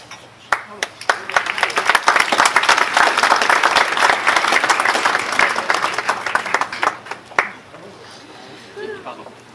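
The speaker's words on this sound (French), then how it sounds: "on applaudit." An audience applauds at the Prix Fitzgerald ceremony on the Côte d'Azur, a burst of clapping that rises and holds for several seconds and then fades to scattered claps, with a voice speaking near the end.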